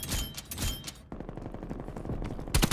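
Call of Duty gunfire, heavy rapid bursts crackling almost continuously at close range, with a short lull and then a loud fresh volley at the end.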